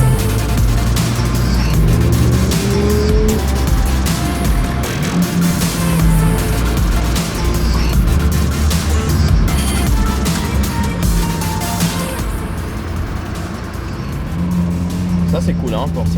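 A convoy of 60-70 supercars rolls around the Monza circuit, engines revving and passing close with roaring sweeps and a brief tire squeal, while people talk and shout excitedly over the traffic throughout.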